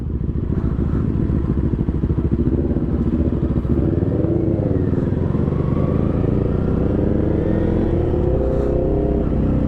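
Motorcycle engines rumble and rev continuously nearby during a group ride in Pangasinan, Philippines, with several bikes passing and accelerating in a busy, clattering din.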